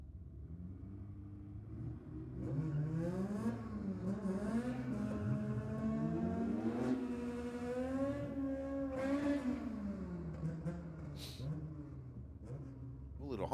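A Honda Civic race car drives on a track at a Ford-versus-Holden themed race night. Its engine rises and falls through the revs at a moderate distance, and a commentator talks over it.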